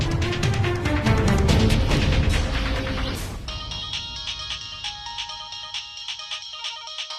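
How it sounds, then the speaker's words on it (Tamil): A phone ringtone plays loudly, a repeating melodic tone over a dense, noisy background that thins out partway through, leaving the ring alone. "என்ன இது மாப்பிள்ள ஃபோன் பண்றாரு?"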